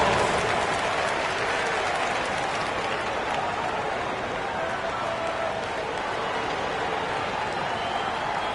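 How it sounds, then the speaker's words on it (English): A large crowd at a Drew League basketball game applauds and cheers continuously, a dense steady roar of clapping filling the whole stretch without pause. "Give yourself a round of applause."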